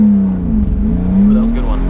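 A BMW E36 with traction control off accelerates hard, its engine note climbing loud and close in a steady rising pull with no talk over it.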